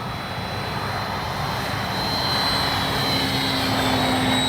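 An FMS Ranger 1220mm RC airplane drones steadily overhead with a loud, continuous electric motor and propeller whine that builds slightly over the few seconds, with no voices.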